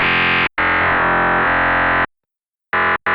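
A harsh, buzzing FM synthesizer tone from stacked sine-wave oscillators with heavy modulation, loud and sustained in bursts broken by short gaps and a longer silence.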